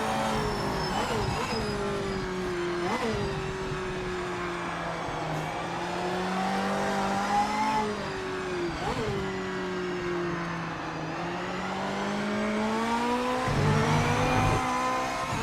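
Race car engines from the Project Motor Racing video game, including a blue Aston Martin, drone steadily with rising and falling revs and gear shifts, continuous and fairly loud with no talk.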